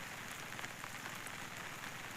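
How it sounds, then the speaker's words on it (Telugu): Steady rain falls on surfaces outdoors near a village pond, a soft, even patter of drops that continues without pause and without any voices. "ఎంతలా వర్షం వస్తుందని ఎప్పుడు అనుకోలేదు మామ"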